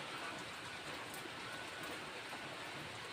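Steady morning rain falls without pause, a dense even hiss throughout with no distinct drops standing out.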